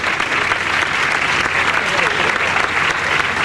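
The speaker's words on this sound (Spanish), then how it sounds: "Un aplauso para Carmen" Loud, dense applause fills an award ceremony at a Lima film festival, a continuous wash of many hands clapping close by without letting up.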